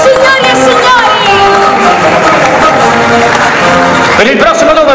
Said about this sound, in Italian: Un applauso signori e signori.